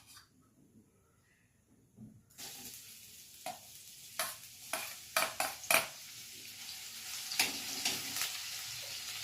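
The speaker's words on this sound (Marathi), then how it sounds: "आलं लसूणची पेस्ट थोडीशी परतून घ्यायची आहे." Ginger garlic paste sautéing in hot oil in a pan for noodles, starting quiet and then breaking into a continuous sizzle with repeated scraping stirs of a utensil against the pan.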